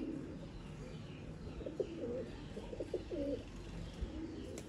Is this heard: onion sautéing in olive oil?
no